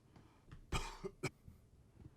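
A person coughs in a quiet indoor setting, a few short harsh bursts with one strong hack in the middle followed by smaller throaty coughs, close to the mic and with no speech.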